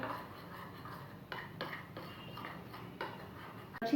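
A spoon mixing flour batter with mustard paste and spices in a bowl for crunchy chicken strips, giving soft rhythmic clicks and scrapes against the bowl, close and fairly quiet.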